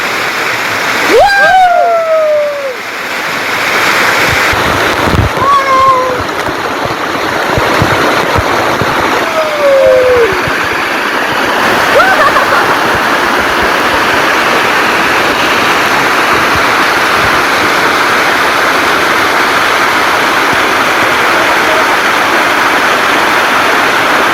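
A rushing waterfall in hilly countryside, a dense continuous roar of falling water close by and loud, with a few brief whistle-like tones and splashes early on and no clear talk.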